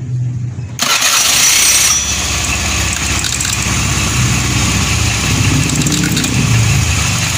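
A motor scooter engine starts abruptly after a brief lull and keeps running loudly and steadily with its cover open, a close, buzzing idle.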